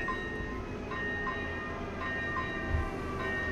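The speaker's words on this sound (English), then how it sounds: "Got a train. That's what that noise." A train passes in the driving game Euro Truck Simulator 2 with a steady rolling rumble and faint ringing tones, continuous and moderately loud, with no talk.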